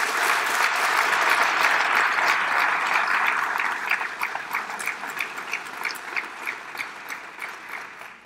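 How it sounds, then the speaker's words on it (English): Audience applause at an Alabama announcement event, many hands clapping loudly at first and then thinning into scattered, slower claps that gradually fade over about eight seconds. "If we could give him a round of applause."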